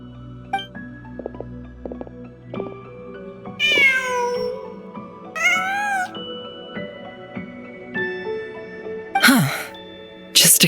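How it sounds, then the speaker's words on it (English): A cat meows several times in the Genshin Impact video game, with clear, close mewing calls rising and falling over soft ambient game music. "Just a cat."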